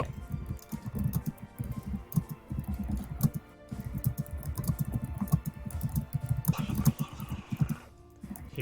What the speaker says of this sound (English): Hear all your typing.